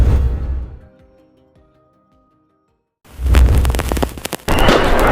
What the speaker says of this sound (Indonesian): Orang yang ada di dalam masjid pasti langsung bergetar karena suara petasan tadi.